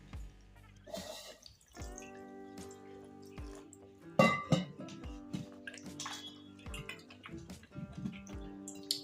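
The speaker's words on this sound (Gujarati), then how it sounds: "તો હવે આપણે કારેલાને ત્રણથી ચાર પાણીએ ધોઈ નાખશું" Bitter gourds being washed by hand in a bowl of water: repeated drips, sloshes and splashes, with a louder burst of handling midway, over a steady low background hum.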